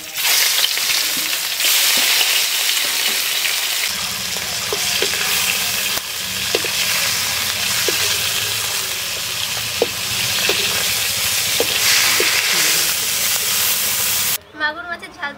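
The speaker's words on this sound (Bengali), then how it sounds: "এই তেলে বাকি মাছগুলোও ভেজে নেব" Loud, dense crackling sizzle of magur catfish frying in oil, with a low steady hum underneath and a few sharp utensil knocks and scrapes, heard up close before stopping abruptly.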